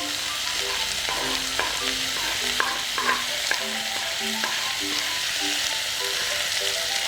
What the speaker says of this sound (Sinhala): කෑලි මිරිස් ටික කහ කුඩු ටික දාගමු.